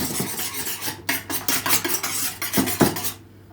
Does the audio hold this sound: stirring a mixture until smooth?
yes